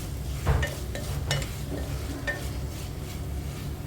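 Vegetables with green peas and beans sauté for a pulao in a pressure cooker, giving a steady low sizzle broken by a few scraping stirs, close and with no voices.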